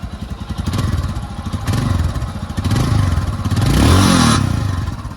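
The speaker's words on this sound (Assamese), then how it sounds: "এতিয়া নতুন বাইক হিমালয়ান। তো আমি মাতটো শুনো, আপোনালোককো শুনাও" A new Royal Enfield Himalayan motorcycle engine runs close by with a throaty, pulsing idle that swells into a louder rev, then eases back.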